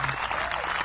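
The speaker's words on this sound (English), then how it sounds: "Where's my clap button?" Canned applause from a podcast clap button, a brief dense burst of clapping and crowd noise heard alone.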